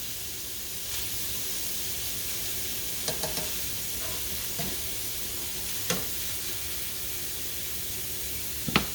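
Breakfast sausage sizzles in a pan with a constant close hiss and crackle, broken by a few soft taps and scrapes of a utensil, no voices.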